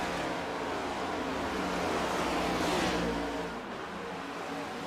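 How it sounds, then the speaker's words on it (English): A loud, continuous race car engine roar from the iRacing video game at Kentucky, with a brief swell as it passes, steady and dense throughout with no voices. "Here comes that race car on the racetrack."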